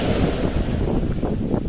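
Sea waves wash onto a beach on the Spanish coast, giving a steady, close rush of surf mixed with gusty wind buffeting the microphone.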